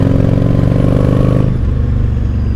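A loud motorcycle engine runs close up, holding a high idle then dropping in pitch as the revs fall.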